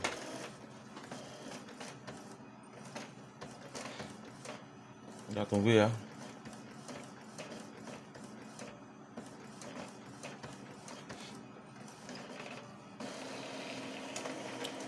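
Brief mechanical whir and clatter of a heavily used printer, with over 100,000 pages printed and still working normally, feeding a page, set within quieter room noise while a person speaks softly nearby.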